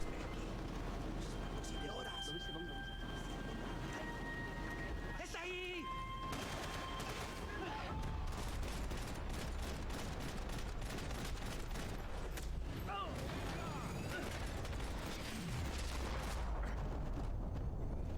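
A gunfire shootout in the video game Max Payne 3: rapid bursts of gunshots and sharp cracks fill most of the stretch, layered with game music and effects, with a voice talking at times.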